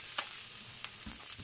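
Garlic and coriander roots stir-frying in oil over low heat, a soft, quiet sizzle with a few light stirring scrapes and taps, close by and with no talk.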